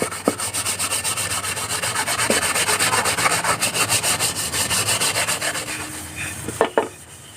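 Steady back-and-forth scrubbing strokes rasp against a blackened pan being polished, rhythmic and close. A couple of sharp clinks come near the end.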